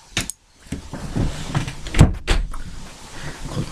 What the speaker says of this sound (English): Close my door again.